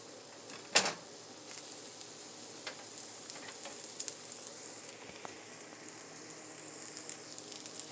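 French toast breakfast wraps fry in a pan with a soft, continuous sizzle and crackle, opened by one sharp clatter near the start, with no talking.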